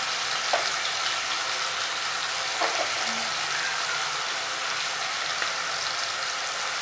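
Onion, mustard seeds and four dried red chillies fry in hot oil, a steady, fairly soft sizzle with a few scattered pops and crackles and occasional faint stirring clinks throughout.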